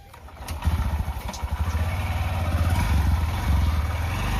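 A motorcycle engine sputters and catches, revs briefly, then settles into a loud, steady idle that continues to the end.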